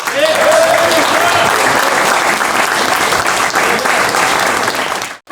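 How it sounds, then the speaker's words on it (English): Audience clapping steadily at a political community event supporting a county prosecutor's re-election, dense and sustained for about five seconds before cutting off abruptly. "he deserves our support and our applause for that"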